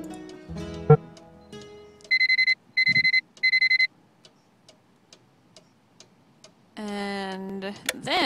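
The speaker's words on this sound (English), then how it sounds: "we need to set the alarm again for 6 a.m." In the mystery game Nancy Drew: The Curse of Blackmoor Manor, an alarm clock gives three quick bursts of electronic beeping among clicks and ticks as it is set, then a longer ringing burst sounds near the end.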